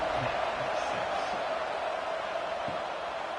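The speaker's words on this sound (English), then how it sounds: "this crowd is buzzing after that last score" Crowd murmur buzzing steadily in a college football stadium between Prince and top-ranked Pittsburgh after a score, just before a kickoff; a broad, continuous wash of noise with no distinct cheers standing out.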